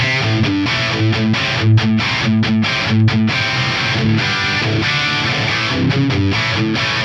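A heavily distorted electric guitar through a Fractal amp and cabinet impulse response plays chunky, rhythmic chord riffs, loud and saturated, with no voices.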